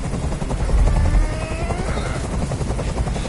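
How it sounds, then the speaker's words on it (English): A helicopter in the video game Detroit: Become Human drones loud and steady, its rotor thumping in a fast continuous chop close overhead, with no voices. "I can't stand that noise anymore. Tell that helicopter to get out of here."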